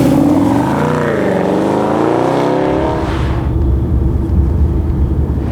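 A Mercedes SLS AMG drives on icy Berlin streets at minus six degrees, its engine note rising and falling in loud, smooth revving sweeps before settling into a steady, rumbling cruise with road noise.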